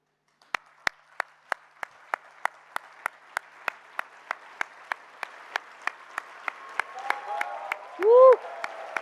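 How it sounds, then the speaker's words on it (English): Graduates and audience applaud at a graduation ceremony, beginning as crisp, evenly spaced single claps that thicken into fuller crowd applause, topped by a short whoop near the end. "I'm going to invite all the graduates to please rise and join me in applauding them"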